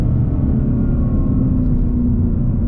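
A Ford Mustang GT in track mode rumbles loudly and steadily from inside the cabin, a deep, even engine drone without distinct revs or blips.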